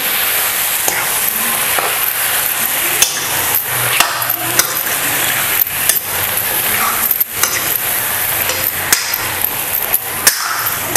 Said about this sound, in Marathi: हे बघा ह्या पद्धतीने ना सगळं आपण एकजीव करून घ्यायचं।